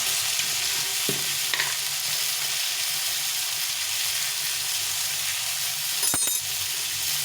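Ground turmeric and red chili powder fry in a pan of oil with a constant, loud sizzle, while a spoon scrapes and clinks against the metal a few times.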